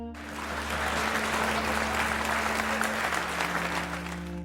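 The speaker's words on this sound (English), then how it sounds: "The audience, applauding out of habit," A studio audience applauds steadily in a Joker film scene, a dense wash of clapping hands that holds at an even level for several seconds, with background music tones underneath.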